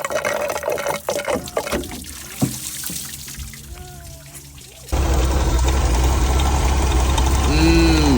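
Water bubbling and flushing through the radiator of an old ute with the engine running, a steady broadband liquid rush that turns louder and denser partway through, with faint background noises before it.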